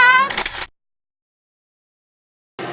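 A single camera shutter click snaps for a photo at the Lotte World Undersea Kingdom indoor playground. It comes as a brief, crisp burst right after a short voiced tone, then silence, with another short sound at the very end.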